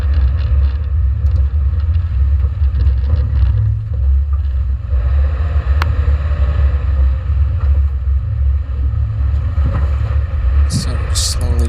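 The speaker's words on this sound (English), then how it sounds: "So we're slowly driving back." A Subaru Crosstrek rolls slowly along a trail at a group meet, giving a steady low engine and tire rumble throughout with some background noise and brief higher-pitched sounds near the end.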